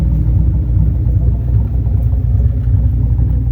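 A 1997 Chevrolet Camaro SS 30th Anniversary with its LT4 V8 engine runs at a steady idle, giving a deep, continuous low rumble close by with no talking over it.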